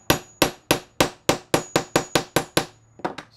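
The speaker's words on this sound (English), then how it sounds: "So, and I'm gonna hammer." Ten evenly spaced, sharp hammer strikes on a hole punch ring out close by, each with a quick decay, followed by two lighter taps.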